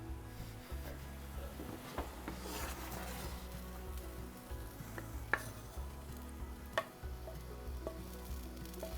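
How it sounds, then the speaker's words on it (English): Vegetables sauté gently on a stovetop beside simmering lentils, making a steady close sizzle and crackle with occasional stirring clinks and scrapes scattered throughout. "now that my vegetables are sauteing on the stove, nice and gently, building those flavors"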